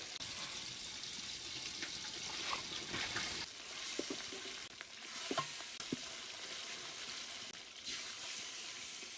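Chicken pieces fry over high heat for chicken biryani, a steady broadband sizzle and hiss running throughout with occasional small pops and spatters, fairly quiet and with no voices.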